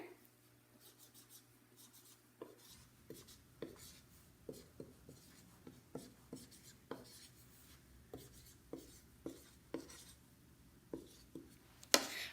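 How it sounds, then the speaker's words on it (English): Chalk or marker strokes writing a sentence on a classroom board, a steady series of short scratchy taps and squeaks in quick rhythm, close and clear with no talking, ending in one sharper knock. "So I'm going to write a sentence, and we are going to read it together."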